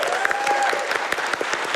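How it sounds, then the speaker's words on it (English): Crowd applause from a live speedrun marathon event audience at Summer Games Done Quick 2023, a dense steady round of clapping sustained throughout, fairly close and loud. "Gotta get a round of applause for them"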